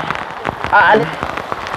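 Heavy rain drums steadily on surfaces as a typhoon approaches, a dense close patter with a brief louder splash midway.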